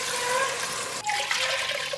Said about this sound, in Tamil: இப்போ தேங்காய் பாலும் தண்ணியும் சேர்த்துக்கலாம்